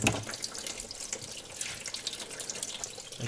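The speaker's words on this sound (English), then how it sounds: "I can release the cap, then the water comes out much faster since you get a vacuum in the system anyways." Coolant water drains from a car engine's cooling system, a steady, splashy gush like a running tap, close and fairly quiet with no voices.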